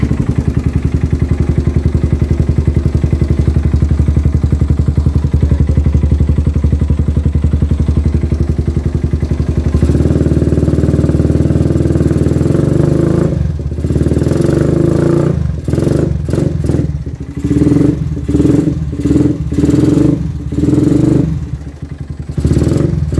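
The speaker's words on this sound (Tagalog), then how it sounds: "Ito kasi na yung nakabit sa big bike ko Villain 520. So sound check muna natin." A big bike fitted with a Villain 520 exhaust runs at a loud, steady idle, then blips the throttle in a series of sharp, close revs that rise and drop in quick bursts.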